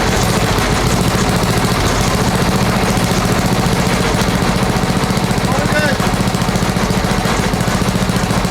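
A Briggs & Stratton 190cc horizontal-shaft engine idles steadily while warming up, a loud, even, rapid chugging that runs throughout without a break.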